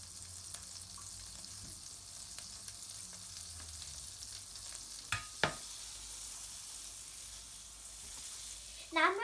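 Butter sizzles in a heated pan for cheese pasta, a soft steady hiss with a few sharp spits and clinks, faint and close throughout.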